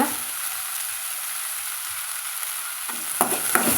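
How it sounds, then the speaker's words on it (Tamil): Vegetables being stirred and sautéed in a pan for a poriyal, a steady soft sizzle with scraping stir strokes that grow louder near the end, no talking. "சேர்த்துட்டு வதக்கி விட்டுக்கலாங்க"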